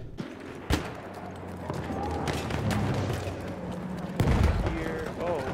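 SMG bursts rattle in a video game firefight, quiet overall, with a sharp shot early, a steadier stretch of fire and a louder blast near the end while a player talks over it.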